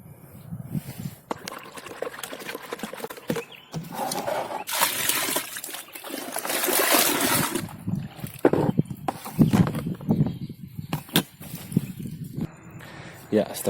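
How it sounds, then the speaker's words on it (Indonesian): Fungicide mixture being stirred in water after a full sachet is poured in, giving irregular sloshing and swishing liquid sounds with scattered knocks, close and moderately loud, under intermittent talk. "Baru kemudian langsung kita aduk."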